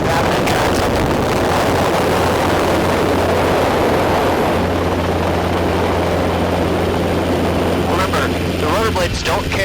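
A Robinson R22 training helicopter flies sideways close by, its rotor and engine making a loud, steady, dense roar throughout, with voices talking over the noise near the end.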